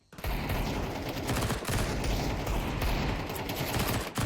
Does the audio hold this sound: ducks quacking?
no